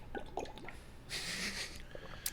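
A person gulps water from a bottle up close: quiet wet swallowing and squishing sounds, then a breathy exhale as the drink ends, all at low volume.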